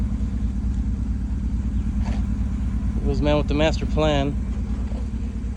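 Twin-turbo 5.3 Sierra pickup truck engine giving a steady, loud low rumble that runs through the whole stretch while a voice talks over it.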